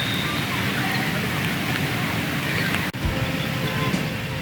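Steady rain pours down over an outdoor pond at a memorial in India, a dense, continuous hiss close by that holds constant apart from one brief dip near the end.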